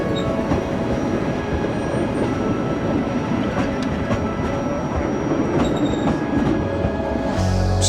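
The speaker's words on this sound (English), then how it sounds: "you take the Cog Railway" A Pikes Peak Cog Railway train rolls past close by, loud steady rumbling with clattering wheels and faint squeals, continuous throughout with no talk.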